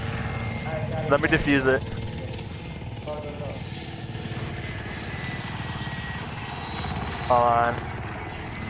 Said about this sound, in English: We have a pussy ass helicopter.